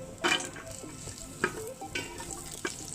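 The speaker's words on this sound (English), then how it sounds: "I'm also adding a couple of stalks of lemongrass for infusion of the lemongrass fragrance." Lemongrass stalks fry in hot oil for mee kari, giving a close, steady sizzle broken by a few sharp crackles and stirring scrapes over about three seconds, with no talk.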